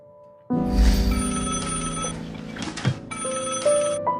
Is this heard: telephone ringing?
yes